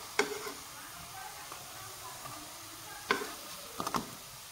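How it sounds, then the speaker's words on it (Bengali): Coconut biscuit pitha fry quietly in hot oil, a soft steady sizzle broken by a few sharp clinks and taps from a utensil. "এইভাবে এগুলো আমি দিয়ে দিব তেলে, একইভাবে আমি এইভাবে ভেজে নেব"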